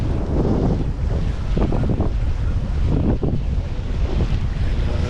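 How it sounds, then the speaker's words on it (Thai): Strong, continuous wind buffeting the microphone with low rumbling gusts on a red bridge in Samut Sakhon, Thailand, loud and close, with a faint wash like distant surf underneath. "แดดไม่มีฝนนะครับมีแต่ลมเย็นๆ"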